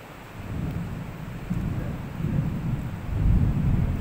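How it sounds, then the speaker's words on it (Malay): Deep rolling thunder from a strong lightning strike during an indoor religious lecture in Malaysia, a steady low rumble with no speech over it that swells louder toward the end. "kilat kuat bang kali ya"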